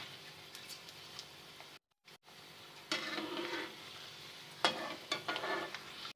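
Edible gum (gond) pieces fry in hot oil in a pan for Punjabi atta pinni, giving close crackling sizzle bursts with stirring scrapes and a short quiet gap midway.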